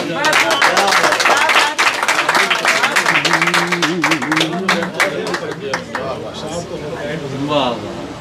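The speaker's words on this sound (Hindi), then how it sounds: "भरपूर तालियों" An audience at a mushaira poetry gathering breaks into loud, dense applause for a poet, the clapping thinning gradually while a voice speaks over it.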